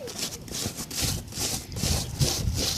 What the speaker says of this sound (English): We're cleaning some boots.